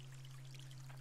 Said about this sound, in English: Now that I have water going through it, I hear something